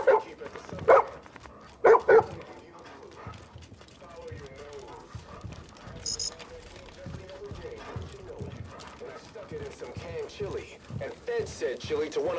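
Dogs in the video game Far Cry 5 let out a few loud, sharp barks near the start, then someone talks steadily over quieter game sounds.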